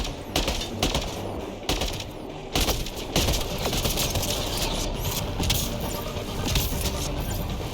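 Gunfire in the video game Mass Effect Andromeda during a battle with the Ket: sustained loud rapid shooting with sharp bursts and overlapping shots, continuing throughout.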